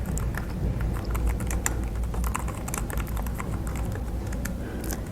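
Fast, steady typing on a computer keyboard while a registration form is filled in, the keys clattering close and loud in dense, continuous bursts with no talking.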